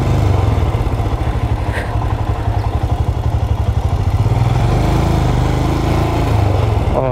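A motorcycle engine idles and chugs close by in the parking deck of a Ro-Ro ferry, a loud, steady, throbbing run with a rattling beat that holds for the whole stretch.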